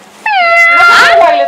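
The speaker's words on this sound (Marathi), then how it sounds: "काय बघतोय तिकडे सारखं मांजर वरडते" A single drawn-out, loud meow from a cat close by, rising and wavering over about a second.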